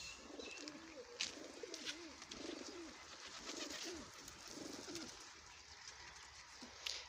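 Large female pigeons coo repeatedly in soft, rolling calls, several birds overlapping at close range, with occasional wing flutters and clicks in the background.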